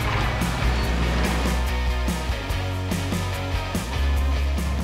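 A tractor pulls a Namysło Sharp 600H cultivator across a field at about 8 km per hour, a loud continuous engine drone with rattling and knocking from the implement, heard close up.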